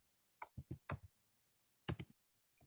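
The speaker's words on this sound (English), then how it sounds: "so let's type here" Keys tapped on a computer keyboard during a software lesson, a quick burst of about six clicks followed by a pause and then two or three more, fairly close and isolated with no talk.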